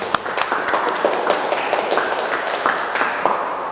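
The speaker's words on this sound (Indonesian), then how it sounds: "Tepuk tangan dong untuk kita semua dulu" A tenth-grade agribusiness class clapping together in a classroom, a busy patter of many hands with scattered sharper claps, steady and fairly close.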